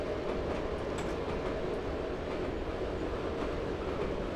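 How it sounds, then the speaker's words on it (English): Steady, loud rumble of a train in Train Sim 2018 on the Weardale & Teesdale line from Bishop Auckland to Darlington, a continuous broadband roar with faint wheel clatter and no speech. "is that going to be a problem, that train coming over here?"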